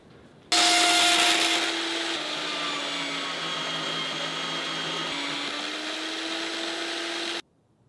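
A power tool cuts through carbon fiber for a dagger handle. Its loud, high whine starts abruptly, holds steady for about seven seconds with a slight drop in pitch under load, then cuts off.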